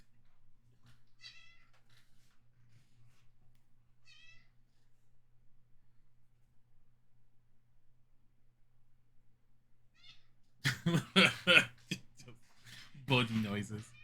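A pet cat meows faintly twice early on in a quiet room, with a soft third call later, before a person speaks loudly close by at the end.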